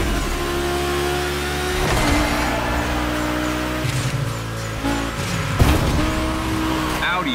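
Audi and Porsche race cars in The Crew Motorfest roar with revving engines and shifting pitch, sustained and loud throughout, with someone talking over the engine noise.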